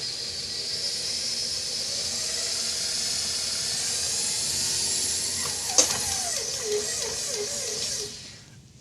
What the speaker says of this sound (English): So now we're going to add our dry mix. And we're going to mix this up.